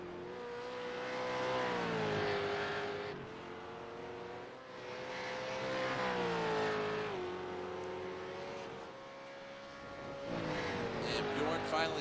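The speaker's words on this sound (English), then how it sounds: "Troy Banks with a terrible throttle out of Oak Tree" V8 Supercars race at VIR, engines rising and falling as cars accelerate and pass through corners, loud and continuous, with commentary voices over the racing.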